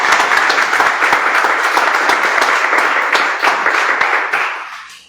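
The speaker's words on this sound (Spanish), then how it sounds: "¿Por qué no le damos un fuerte aplauso al Señor?" A church congregation applauds during a sermon: loud, dense clapping from many people that holds steady for several seconds, then trails off and fades at the end.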